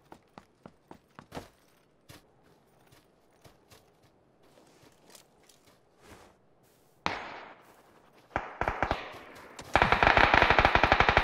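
UMP45 submachine gun fire in PUBG: scattered single shots and short bursts echo at a distance at first, then a loud, sustained close-range automatic volley rattles out at the end.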